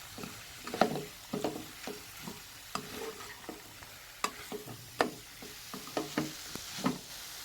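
Chopped tomato stirred in hot oil with masala for a peechinga (ridge gourd) curry, a spoon scraping the pan in irregular strokes over a soft, steady sizzle, close and moderately quiet.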